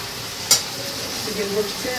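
Chicken frying in a pan gives a steady sizzle, with a sharp utensil scrape near the start and light stirring noises.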